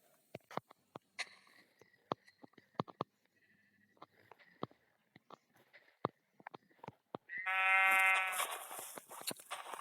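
Sheep in the Minecraft video game bleat among sharp clicking hits and taps, and a longer, louder bleat rises near the end; no one speaks.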